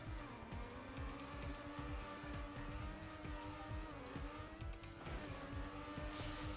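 A race car in Trackmania Nations Forever air-braking, its engine roaring continuously with repeated tire-squealing skids and pitch dips as the car slides through turns.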